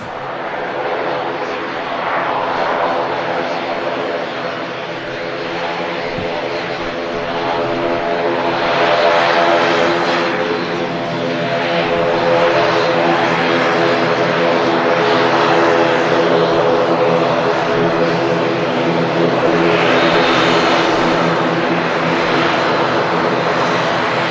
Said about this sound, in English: Welcome to Manchester Airport.